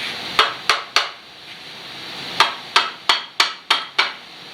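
A plastic hammer taps on a part of a Honda WB20XT semi-trash pump, with sharp distinct knocks: three quick taps, a pause, then six more in a loose rhythm, close and clear with no talk.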